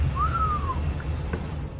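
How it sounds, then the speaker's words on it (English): A single rising-then-falling whistle sounds in a quiet room during scary footage, a clear tone that fades out, followed by faint bumps over low background hum. "she hears a whistle"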